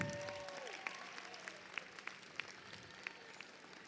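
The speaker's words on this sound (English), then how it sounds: "Let's give her a round of applause as she comes up." Audience applause at a live show as a young woman volunteer makes her way up from the crowd, a steady wash of clapping with a few sharper claps standing out.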